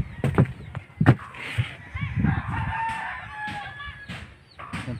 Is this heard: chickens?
yes